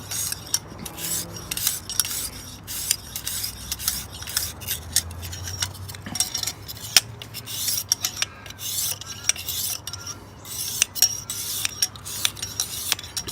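Knife blade drawn across the stone of a knife sharpening system in quiet, repeated light scraping strokes at an irregular rhythm, close but soft, with no talk.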